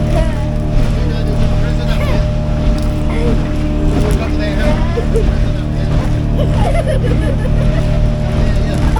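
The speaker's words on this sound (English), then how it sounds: "Kill your motor now. Turn the motor off." A boat motor drones steadily at close range on a first boat trip, with wind buffeting the microphone and people talking over the engine.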